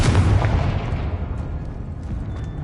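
A Confringo fire spell from Hogwarts Legacy erupts in one loud, close blast, its rumbling boom trailing off over a couple of seconds with no talking.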